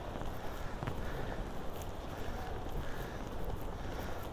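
At night on a New York City street, a steady wind roars and buffets the microphone continuously, loud and close, with no talking.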